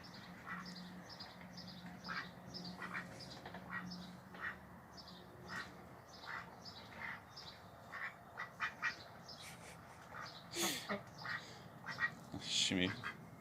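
Farm ducks quack in the morning, with repeated rhythmic calls and squawks close by at low-to-moderate volume, bursts growing busier toward the end as someone talks quietly over them.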